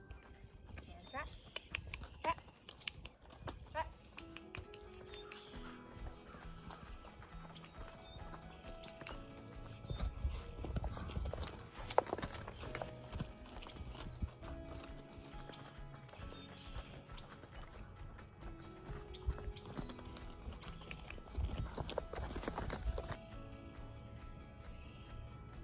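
A young mare's hooves clip-clop at an even pace during one of her first training rides, a soft, moderately distant beat under a voice talking throughout.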